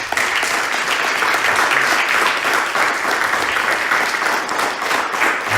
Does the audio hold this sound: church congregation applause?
yes